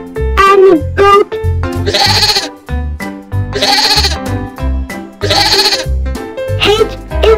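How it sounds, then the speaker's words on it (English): A goat bleats loudly in three repeated, wavering cries, set within a bright children's alphabet song with music playing underneath. "G is for grapes and goat."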